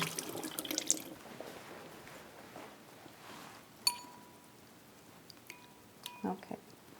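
Sausage casings are washed in water to rinse off salt, with soft splashing and trickling at a sink, a few sharp clinks and drips, fairly quiet overall.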